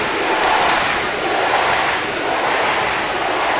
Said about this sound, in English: this crowd is getting very excited as the Knights wait patiently